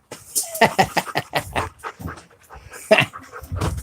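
A Shiloh Shepherd dog pants rapidly and loudly up close while snapping at a buzzing bee outdoors, the quick breaths coming in uneven bursts.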